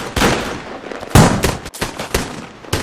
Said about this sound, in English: In an instant, gunfire tore through the quiet air.